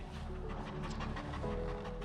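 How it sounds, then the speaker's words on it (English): A dog pants heavily and rapidly in a rhythmic series of close, breathy huffs, with faint background rumble as if inside a vehicle. "He's heavily panting."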